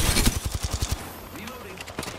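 Rapid automatic gunfire in Apex Legends, a quick burst of close, sharp shots in steady rhythm that stops abruptly, followed by a character voice and a few scattered shots.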